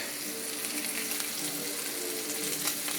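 A tomahawk steak sears on a hot griddle with a steady, close, broadband sizzle that holds an even loudness throughout, with no talking.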